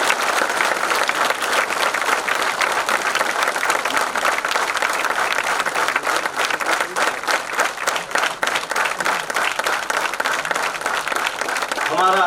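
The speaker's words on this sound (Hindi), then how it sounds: "भारतीय उच्चतम न्यायालय के न्यायमूर्ति बनने के बाद प्रथम आगमन पर तालियों की करतल ध्वनि से स्वागत करेंगे" Sustained applause from an audience at an advocates' association in Chhattisgarh, welcoming a Supreme Court of India justice on his first visit; dense, steady clapping fills the whole stretch at close range, with faint voices mixed in.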